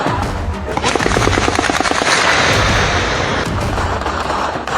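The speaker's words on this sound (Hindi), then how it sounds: "पहला फायर, दूसरा फायर, तीसरा फायर" Repeated gunfire at a protest in Pakistan-administered Kashmir, a rapid burst of loud, closely spaced shots followed by a noisy, sustained rumble and crowd clamor.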